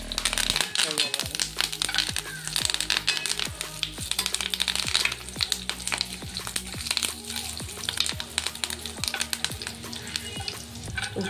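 Dried red chili and curry leaves fry in a pan for pepper dal, giving a constant loud sizzle dotted with sharp crackles and pops, while a voice talks over it.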